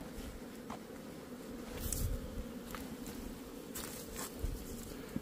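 Black hornets buzz as they fly in around an apiary, a steady close insect drone with brief louder passes and a few soft knocks, no voices.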